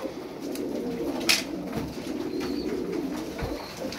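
Twelve caged birds in a shop, including pigeon-like cooing, amid a steady indoor background hum with a brief sharp rustle.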